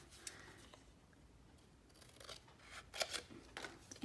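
Scissors snip through paper during a pink-paper card-making craft project, a few quiet crisp cuts spread across the moment with faint rustling in between, no talking.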